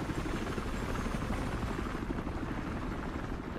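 A helicopter in the Battlefield Hardline video game roars steadily overhead, a dense, continuous rotor and engine drone that stays loud and even for the whole stretch, with no voices.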